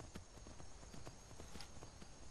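Horse hooves clip-clop in Skyrim VR, a steady run of soft, even beats heard faintly under a constant hiss of game ambience.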